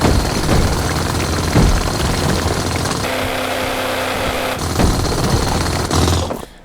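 Uranium drilling in Space Engineers, a loud continuous grinding, rumbling drill noise with a steady mechanical hum partway through, heard alone without speech.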